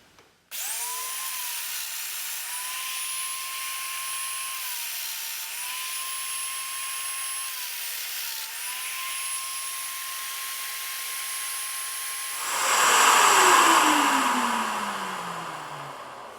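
A Festool Domino joiner whines up to a steady high-pitched spin. It holds for several seconds, then plunges into wood to cut a mortise with a louder rasping burst, and its pitch falls away as the motor spins down.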